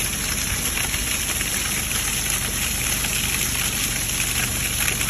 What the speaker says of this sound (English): We're in Yellowstone looking at waterfalls now.